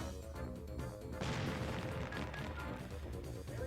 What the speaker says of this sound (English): avoid the burning bits of Bowser's fireworks that are raining down.